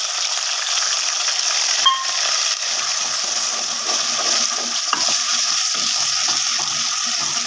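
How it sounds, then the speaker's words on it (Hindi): Whole spices, cloves among them, and onion frying in a pan with a steady, loud sizzle and hiss, a couple of faint metallic clicks breaking the continuous crackle. "इसको भी हम 10 सेकंड्स के लिए फ्राई करेंगे"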